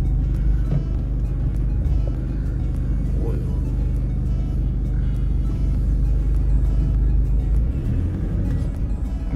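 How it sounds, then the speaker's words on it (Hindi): Car engine idling and creeping forward while being parked in front of another car, a continuous low rumble with light mechanical clunks and faint background voices. "तो गाड़ी इस गाड़ी के आगे लगा देते हैं।"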